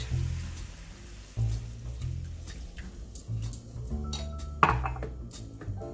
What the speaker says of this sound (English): we have to put the water which we drained from the bottle ground, and I put little more water on it.